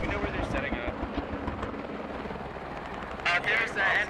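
Loach helicopter in a military video game, its rotor chop and engine roar running steadily underneath a dense mix of battle noise, with a couple of sharp bright bursts near the end.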